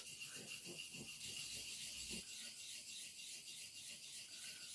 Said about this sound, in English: I'm going to just put it onto the blade flat onto the sharpening stone, because this is a 400 grit